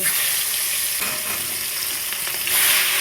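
Hilsa fish frying in hot oil, a steady close bright sizzle with soft crackling and occasional stirring scrapes throughout.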